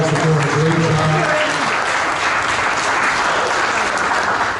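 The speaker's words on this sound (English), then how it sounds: "Let's give our Mistress of Ceremonies another round of applause" Audience applause at a Kwanzaa celebration in the City of Paterson, a dense roomful of clapping that stays loud and steady throughout, with a voice over the first moments.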